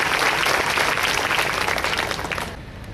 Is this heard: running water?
no